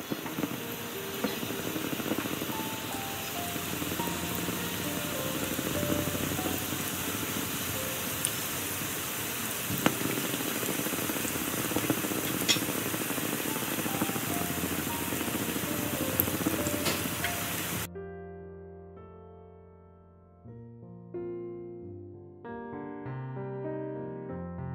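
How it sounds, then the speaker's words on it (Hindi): Half-done threaded paneer deep fries in hot oil in a kadai, giving a steady, loud crackling sizzle for about eighteen seconds before music takes over. "अब जो हमारे हाफ डन थ्रेडेड पनीर रखे हैं उसे हम फ्राई करेंगे।"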